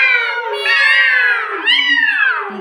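A voice imitates a cat with a long, loud, wavering meow that rises and falls in pitch, stretched into two drawn-out cries close to the microphone in a classroom.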